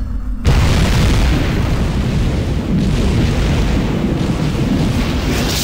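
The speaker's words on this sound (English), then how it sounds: "There's been some kind of explosion" A massive explosion in the space combat game Tachyon: The Fringe bursts in suddenly, then a loud, dense rumbling roar fills the rest of the moment without letting up, with no voices.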